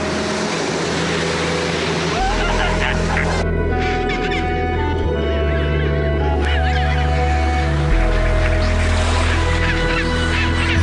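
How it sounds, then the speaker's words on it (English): Chinstrap penguins call along a busy beach path in Antarctica, with loud, overlapping honking and braying voices forming a steady, dense din close by. "This is a penguin highway, an endless trek of birds, in this case chinstraps, going to or from the sea or their nest sites."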